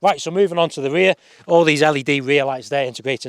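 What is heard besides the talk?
No distinct noise like a dog, phone or traffic.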